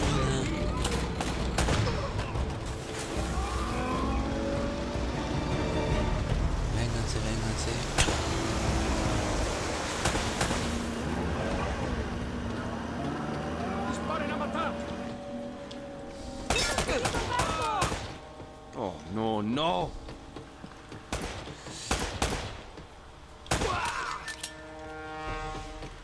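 Heavy gunfire from the video game Uncharted: Drake's Fortune comes in rapid bursts and steady volleys during a firefight around boats, mixed with engine hum. Someone talks over the action, and the shots grow sparser toward the end.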